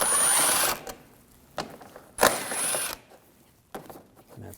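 Screws come out of a 2007-2013 BMW 328i front bumper cover with an 8mm socket, in three or four short, close mechanical whirring bursts separated by quiet pauses.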